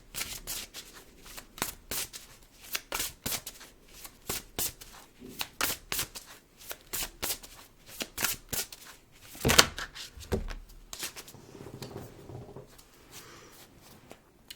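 Tarot cards shuffled by hand, close up: quick riffling bursts and soft slaps come in uneven runs for several seconds, with a brief louder knock partway through and no talk.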